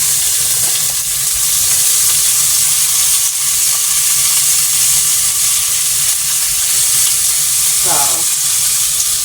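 Slightly frozen beef searing in a pot for vegetable beef stew gives a loud, steady sizzle and hiss that fills the whole stretch, with a brief spoken word near the start.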